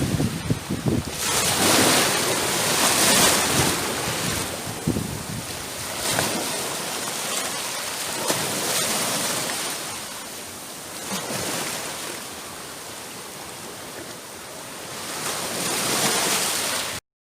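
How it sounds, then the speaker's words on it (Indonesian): Ocean waves roll and break in a steady broadband roar, swelling and receding in slow surges, with wind buffeting the microphone throughout. "suara ombak"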